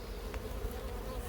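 Honeybees swarm and drone steadily around an open hive as a frame is lifted out, a dense continuous buzz close by with a low hum and slight flutters, no speech over it.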